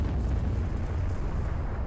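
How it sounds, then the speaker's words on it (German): Alien queen blowing up in the Aliens vs Predator game: a continuous deep, rumbling explosion roar that stays loud and dense across the whole moment, with no voices. "Jetzt explodiert die Königin!"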